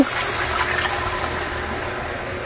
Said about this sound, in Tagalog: Maglalagay lang po tayo dito ng tubig.